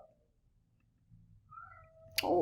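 A cat meows once near the end, a short, fairly close cry following a faint quiet stretch, with no talking.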